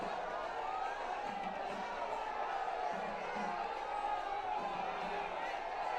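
A large crowd lines the route of a prime ministerial road show in Kochi, Kerala, its steady distant cheering and whooping forming a dense wash of voices that carries on without a break.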